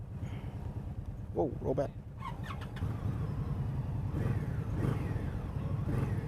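A 2018 Indian Scout Sixty motorcycle idles with a low, steady engine rumble close by, and someone briefly speaks over it.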